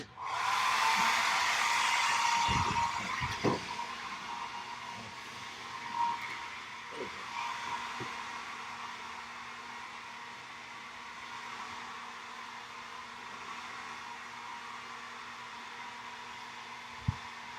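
A hair dryer drying wet paint gives a steady close whooshing blow that is loudest for the first few seconds, then eases to a lower continuous hiss, with a few faint knocks and no talk.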